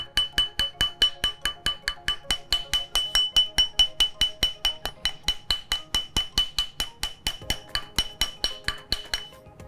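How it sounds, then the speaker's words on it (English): A wire ring with beads is tapped all around with a small jewelry hammer, giving a fast, even series of about forty sharp metallic clinks close up with no talking. "we'll just go around and give this some hammers."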